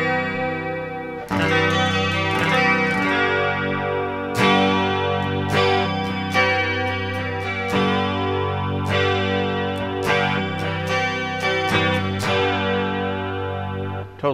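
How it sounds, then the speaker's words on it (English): Les Paul electric guitar on the neck pickup, running through a Tom Scholz Rockman and Stereo Echo, playing a steady run of picked chords and notes with a smooth echoed tone, loud and close with no voices. "I'm going to go in the neck pickup."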